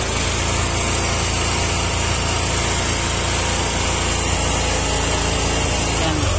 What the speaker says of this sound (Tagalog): Kaya painitin muna natin ng konti yung makina nya.